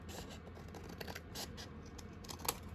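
Scissors cut through folded paper in a run of close, quiet snips and rustles, steady throughout with one sharper snip near the end and no talking.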